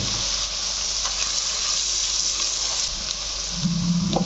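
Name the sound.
onion sautéing in pan with turmeric and salt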